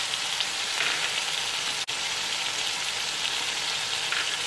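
Chicken pieces fry in a pan for restaurant-style chicken fried rice, giving a loud, continuous hiss and crackle of hot oil with one brief dropout midway.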